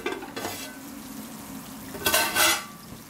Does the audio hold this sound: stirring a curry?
yes